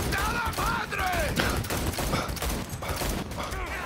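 Rapid bursts of gunfire in Cyberpunk 2077 crackle loudly and continuously, with chirping in-game sounds mixed in.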